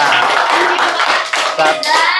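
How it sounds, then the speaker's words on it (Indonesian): Students clapping hands in a classroom lesson, a loud close patter of claps mixed with children's voices and chatter. "Iya, tepuk tangan untuk Gepa."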